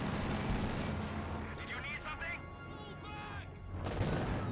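Battle fire in Company of Heroes 2: .50 caliber machine guns trading shots with a 2 cm autocannon on an anti-aircraft half-track, heard as dense, overlapping bursts and rumbling blasts, with a voice talking over the gunfire.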